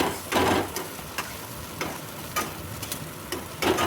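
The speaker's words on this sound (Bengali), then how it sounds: "গ্যাস একদম সিমে রেখে এটাকে ভাজবো।" Taro curry (kochu ghonto) frying in a pan over low gas, a soft steady sizzle broken by intermittent scraping stirs and light clicks.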